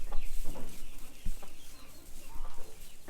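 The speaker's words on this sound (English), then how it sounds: "Just playing with the chickens." Chickens cluck repeatedly at close range, short uneven calls over a busy farmyard background.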